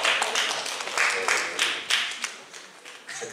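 An audience at a literary circle meeting in Fălticeni applauds, a dense, steady patter of clapping hands lasting the whole moment with a few sharper claps standing out, fairly close and without speech over it.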